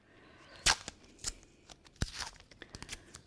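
Tape is pulled off during the making of a cylindrical paper case, giving a few sharp, close crackling rips separated by quieter pauses, with no talking.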